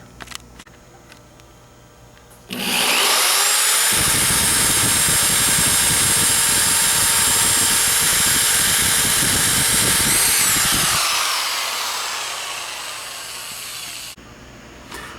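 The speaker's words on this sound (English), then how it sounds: "I'm gonna drill both ends just with a tiny hole, 1/8 inch or whatever" A power drill whines at high speed for about ten seconds, drilling a tiny 1/8 inch hole in a divided tank, close and loud, then winds down and stops.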